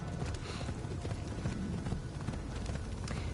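A horse gallops in the video game Assassin's Creed, with rapid, continuous hoofbeats pounding loudly and evenly throughout with no pauses.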